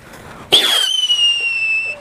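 A Godzilla brand firework goes off with a sudden loud bang, followed by a sustained high whistling screech that holds steady for over a second before cutting off, heard close with no talk.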